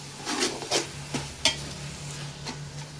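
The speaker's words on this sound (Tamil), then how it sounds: "தக்காளி நல்லா குழஞ்சி வர அளவுக்கு வதக்கி விட்டுக்கலாம்." Tomatoes are sautéed in a pan for mutton biryani, with a few distinct spatula scrapes and stirring strokes over a soft, steady sizzle. The sound is close and there is no speech.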